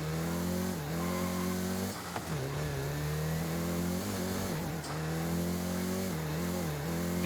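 Volkswagen Golf GTI engine in Forza Horizon 5, a steady loud mid-pitched drone that dips and swells as the car shifts and revs, with brief tire scrubs, continuous for several seconds with no talk.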